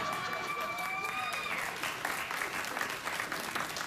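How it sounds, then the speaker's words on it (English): Studio audience at a late-night talk show cheering and applauding, a dense steady wash of clapping with a few whoops rising early on, loud and sustained without speech. "Oh, yeah, you cheer now"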